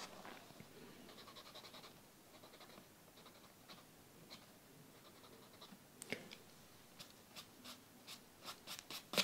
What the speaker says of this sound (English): So this one is the Mono Zero elastomer eraser, if you wonder.